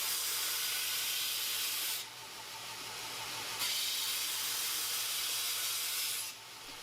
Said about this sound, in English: I'm now grinding off the tabs that were attaching the workpiece to the leftover stock and breaking the sharp edge on the back side